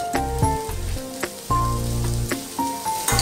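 Potatoes frying in a pan for a Spanish omelet, a steady close sizzle with crackling beneath a few sustained musical tones, continuous throughout with small bursts of spatter.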